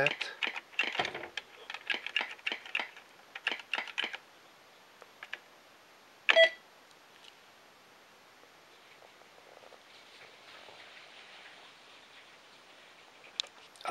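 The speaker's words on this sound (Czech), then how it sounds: "Sharp X1 má velmi kvalitní klávesnici a dobře se na ní programuje." Typing on a Sharp X1 computer keyboard, a run of quick close key clicks in bursts during the first four seconds, then a louder isolated clack and sparse taps over faint background hiss.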